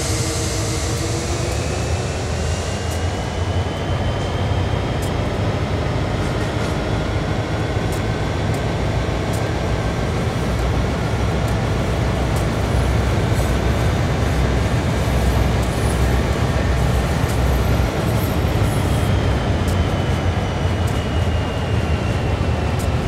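A locomotive in Train Sim World 2 runs on a car shop delivery job, giving a loud, continuous engine rumble and drone that lasts the whole stretch with no voices.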